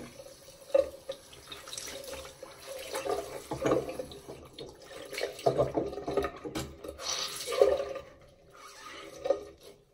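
Tap water runs at a bathroom sink during a morning skincare routine while a face is rinsed, with close, uneven splashes and drips over a steady flow and no talking.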